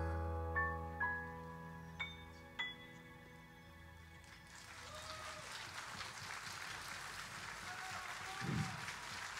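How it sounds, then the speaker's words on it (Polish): A concert audience breaks into applause midway, a dense clapping wash building after sustained musical notes fade, moderately loud and steady, with a voice rising briefly near the end. "Wielkie brawa."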